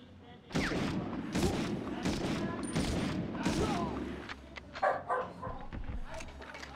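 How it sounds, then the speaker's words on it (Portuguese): A pet dog barks repeatedly near the microphone over game audio with gunfire and explosions, in uneven bursts. "Não, doguinha, late não, doguinha."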